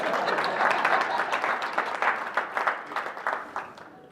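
An audience claps after a lively talk, with dense, close applause that swells and then thins into scattered individual claps as it fades.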